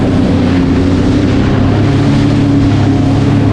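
A loud, steady engine roar from a Sea-Doo jet ski accelerating, with wind buffeting the microphone throughout.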